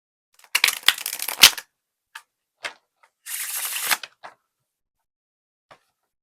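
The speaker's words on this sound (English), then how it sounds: "Give these one shuffle." A deck of cards gets a close, crisp riffle shuffle, a dense burst of flicks. A few separate taps and snaps follow, then a second rapid riffle, and the cards settle quietly with no voices.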